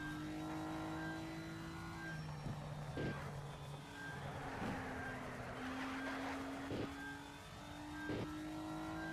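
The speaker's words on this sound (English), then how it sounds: "it's the car bottoming off the ground." A Nissan GT-R engine in the video game Shift 2 Unleashed drones steadily with periodic sharp thuds and scraping knocks as the car bottoms out, repeating every couple of seconds.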